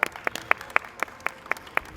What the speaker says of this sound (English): I request everyone to applaud them with full enthusiasm.